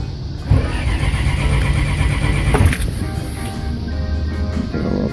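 A Perkins 4.108 diesel engine cranks steadily and loudly without catching, a sustained mechanical churn that surges briefly midway and continues close and unbroken throughout, with no talking.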